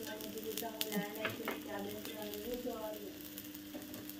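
Gunta ponganalu (paniyaram) batter sizzles faintly in a pan, a low steady hiss with a few scraping sounds and a voice-like tone drifting through.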